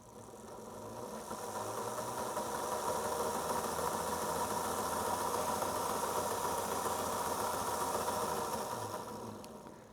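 The small electric motor of an old Athearn model locomotive, freshly lubricated, runs as a steady whirring hum with a buzzy gear drone. It fades in over the first seconds, holds even, and eases off at the end, with no talking.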